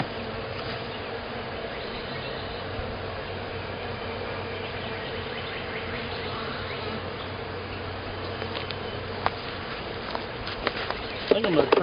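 A swarm of bees buzzing around a hive box outdoors, a dense continuous droning hum close by, with faint background sounds and a few clicks near the end.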